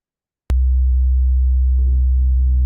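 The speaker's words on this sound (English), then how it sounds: "A sine wave." A pure 64 Hz sine wave test tone switches on abruptly and holds steady and loud, a deep continuous hum with no talk over it.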